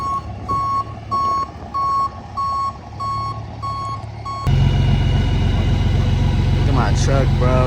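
A tow truck sounds a regular series of loud, evenly spaced reversing beeps for several seconds, then its heavy engine drones on steadily while a voice speaks briefly near the end.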